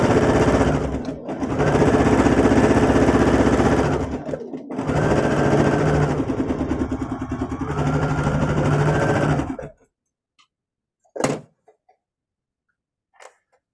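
Domestic sewing machine stitching a quilt seam, loud steady motor whir in two long runs separated by a brief stop, then silence with a couple of faint clicks.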